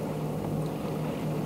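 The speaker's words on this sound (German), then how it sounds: "ihr hört vielleicht im Hintergrund so ein bisschen den Motor summen" Steady low motor hum from a sailboat's engine on the Limfjord in Denmark, a constant drone with a faint tonal line, running alone without any voices over it.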